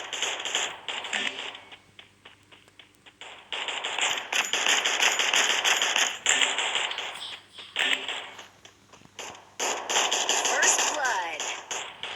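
Rapid bursts of sharp video game gunfire crackle in repeated volleys, loud and close, with pauses between and faint chatter in places.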